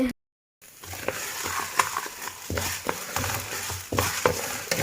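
Vermicelli frying and being stirred in ghee in a pan, a steady close sizzle with scraping spoon strokes, starting after a brief silent gap.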